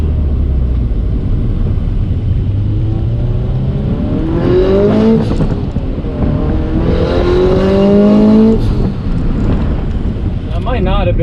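A turbocharged FRS car accelerates hard through a pull, its engine note climbing in repeated rising sweeps under heavy wind buffeting, loud and close from inside.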